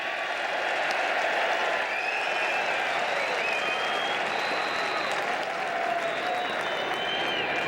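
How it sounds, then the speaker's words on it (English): Canadian baseball fans applaud in a stadium during a World Baseball Classic game against Italy, a sustained, fairly loud wash of clapping and crowd noise with a few faint whistles on top. "kind of a caustic applause from the Canadian fans"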